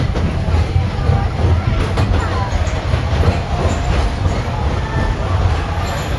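A Magic Kingdom railroad train at Walt Disney World rumbles steadily into Frontierland Station with rolling wheel noise and low mechanical drone, continuous and close throughout, with a faint whine on top.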